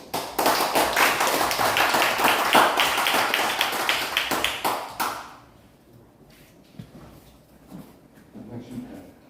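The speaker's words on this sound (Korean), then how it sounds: "대한변호사협회장님을 박수로 좀 환영해 주시기 바랍니다" An audience at a legal gathering applauds in welcome of the bar association president, a loud burst of clapping that lasts several seconds then fades out into quiet room noise.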